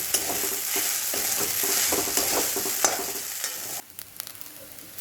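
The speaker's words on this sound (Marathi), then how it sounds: "फुल गॅसवरच प्रथम आपल्याला ते भाजून घ्यायचं आहे कारण ते साबुदाणा कढईला चिटकणार नाही" Sago pearls dry-roasting and being stirred in a pan over full gas, a steady close scraping and rattling hiss with a faint sizzle that drops to quieter scattered scrapes near the end.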